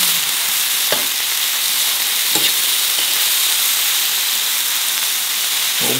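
A tomahawk steak sizzles loudly and steadily in a hot pan, a dense continuous frying hiss with a few soft clunks as the meat is turned.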